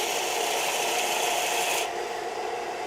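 Light hand-sanding on a blaster rifle prop being weathered, with a soft, steady rasping rub that runs continuously and is close up, with the brighter scratchy texture dropping off near the end.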